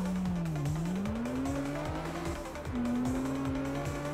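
A race car in the street racing game CarX Street revs with a steady engine drone that climbs and shifts, punctuated by gear changes and tire squeal, loud and close without talk.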